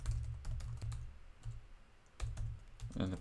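Keys on a computer keyboard are typed in quick bursts, with a pause in the middle before the clicking resumes, close to the microphone and with no talking.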